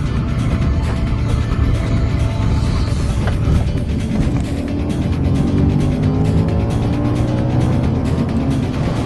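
An Audi RS4 with all-wheel drive slides sideways on a desert road, its engine droning loudly and continuously with rising and falling pitch as the tires scrub through the slide.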